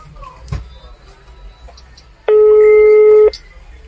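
A phone call being placed: after a soft thump, a single steady ringback tone sounds on the line for about a second, loud and clean.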